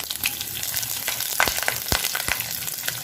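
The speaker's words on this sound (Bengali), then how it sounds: "কড়াইতে দিয়ে দিব সর্ষের তেল, দিয়ে দেব তেজপাতা একটা আর শুকনো লঙ্কা একটা" A bay leaf and a dry red chilli frying in hot mustard oil in a wok, a loud, continuous crackling sizzle with frequent sharp pops and spits throughout.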